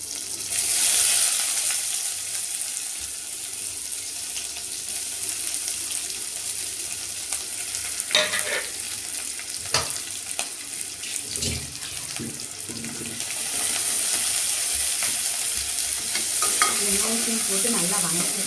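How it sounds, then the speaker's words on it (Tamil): Cumin and onions sautéing in a pan, a long steady hiss of frying with intermittent stirring scrapes and clinks, the sizzle swelling louder toward the end. "வெங்காயத்தையும் போட்டு நல்லா வதக்கிடலாம்."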